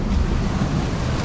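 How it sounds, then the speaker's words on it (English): Ocean waves at Mokoli'i Island off Oahu, Hawaii roar as a steady, loud wash of surf, mixed with gusty wind buffeting the microphone and no speech. "Oh, wow. Look at those waves."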